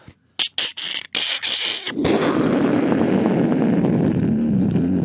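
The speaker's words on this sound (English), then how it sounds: "Now it's that lightning that's real close to your house." A series of sharp crackling snaps gives way to a loud, sustained rumbling roar, like a close lightning strike followed by rolling thunder.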